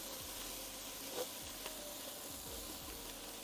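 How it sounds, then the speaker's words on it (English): Spices sauté in a pan for a coconut, ginger and butternut squash soup, giving a steady close sizzle with a few soft stirring scrapes. "Stir those spices in and let them saute a touch."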